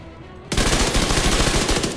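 A Converted SMG A2 submachine gun firing in the video game The Division 2, an abrupt loud burst of rapid automatic fire that continues unbroken to the end.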